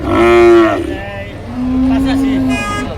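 A dairy cow with her calf at a cattle market in Kaitla, Tangail, gives two long, loud, close lowing moos, separated by a short pause.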